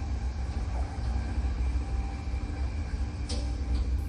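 A train rolls steadily toward a crowded station, a continuous low rumble of wheels and carriages heard up close, with a brief higher squeal near the end.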